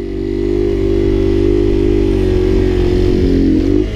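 A Honda Grom motorcycle engine drones steadily at high revs during a wheelie, loud and close, holding a constant buzzing pitch before rising briefly and cutting off near the end.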